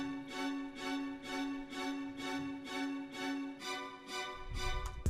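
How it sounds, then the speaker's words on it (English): A violin staccato chord from the Philharmonic VST repeats evenly, about eight short bright stabs in a steady pulse, playing alone at moderate volume. "14 violin staccato"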